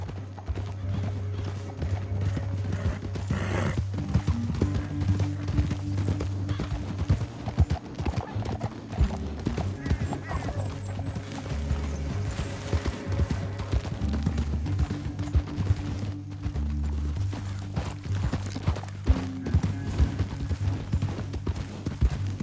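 Rapid hoofbeats of galloping horses in the video game Red Dead Redemption 2 pound steadily throughout, with a low droning music bed underneath and an occasional whinny.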